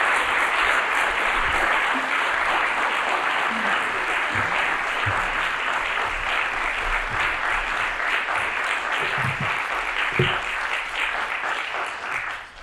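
An audience applauding to welcome author Imani Perry to the stage at a lecture, sustained dense clapping from a full hall that fades slightly near the end.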